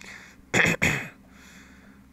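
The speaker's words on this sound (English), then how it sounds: "I don't know what's wrong with my coughs" A person gives two quick, loud coughs close together, then there is quiet room noise.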